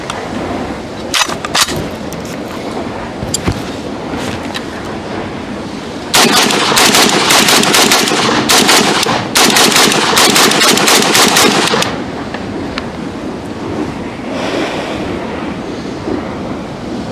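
Automatic weapons fire loudly up close, with a few scattered shots followed by long, rapid machine-gun bursts, then a quieter stretch with no speech.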